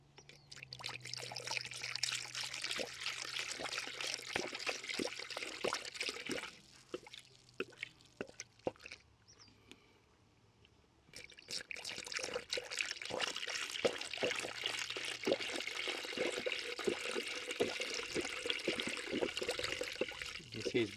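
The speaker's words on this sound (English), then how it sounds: "So I'm going to start with the Subaru Coolant." Blue Subaru coolant poured into the cooling system of a Subaru Outback 3.6, a continuous liquid glugging and trickling with drips, dropping to a near-silent pause midway before resuming, close and quiet.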